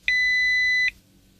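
A single steady electronic answering machine beep, clear and fairly loud, holding for almost a second before cutting off to near silence.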